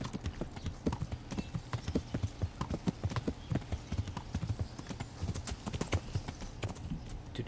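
Horse hooves clip-clopping at a steady fast rhythm while riding in the medieval game Kingdom Come: Deliverance, close and continuous throughout.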